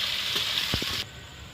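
Sliced onions frying in a modest amount of oil with whole cumin and chillies for a chicken neck and liver curry, a steady close sizzle that drops suddenly in level about a second in.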